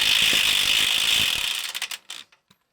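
A ratchet wrench clicks rapidly and loudly while loosening the leaf spring U-bolts during a heavy-duty suspension upgrade. The continuous ratcheting trails off into a few separate clicks, with no voices.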